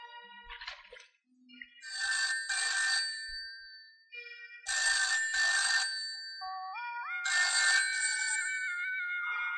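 Telephone ringing in a Malayalam crime thriller after a call is placed: three bursts of a bright electronic double ring separated by silent gaps, with a rising tone near the end, clear and alone.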